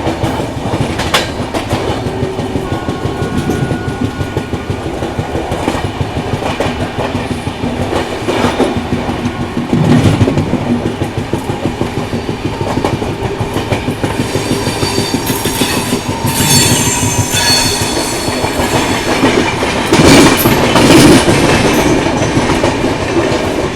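The Odisha Sampark Kranti Express rolls along the tracks with a loud, steady rumble and rhythmic clickety-clack of wheels over rail joints, heard from on board as it overtakes another train near Tundla Junction, with no voices.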